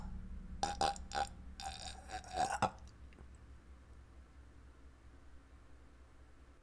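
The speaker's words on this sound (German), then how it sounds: "Das war irgendwie ein merkwürdiger Rülpser" A strange, drawn-out burp erupts in several bursts over the first few seconds, close and fairly loud, then fades into quiet room noise.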